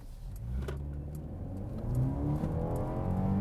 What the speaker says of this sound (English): I'm going to see if I can like maybe come to a left turn here, hit the gas, see how well it responds